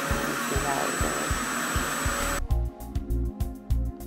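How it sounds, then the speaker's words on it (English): A Revair reverse hair dryer runs loud and close with a steady broadband whoosh, then its airflow tone changes partway through, accompanied by a regular low thumping pulse throughout. "I unmuted that clip so you guys can actually hear the sound of the dryer. It is definitely loud."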